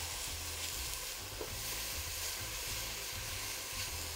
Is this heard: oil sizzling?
yes